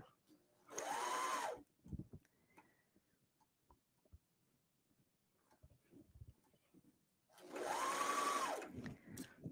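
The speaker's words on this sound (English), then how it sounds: "make sure you do not have pins going through your serger" Serger overlocker stitching a T-shirt runs in two short, fast whirring bursts of about a second each, close and clear, separated by quiet handling sounds and soft talk.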